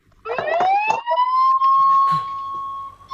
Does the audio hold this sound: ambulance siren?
yes